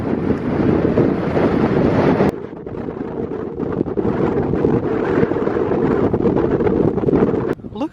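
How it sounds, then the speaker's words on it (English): Loud, steady wind blasts across the microphone on the Kent coast, a heavy rushing roar that briefly cuts out and returns, with no speech heard. "I forgot how gosh darn windy it was up here."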